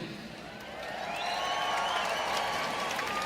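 An arena crowd at a Longines FEI Jumping World Cup show jumping event in Toronto cheers and claps, swelling after the first second into a broad sustained roar with whoops and a rising whistle-like shout.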